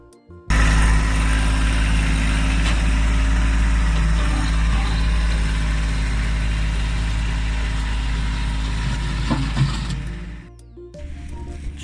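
A heavy diesel tractor engine idles loudly and steadily nearby, with a deep rumble and mechanical clatter, cutting off near the end, while packing down a driveway.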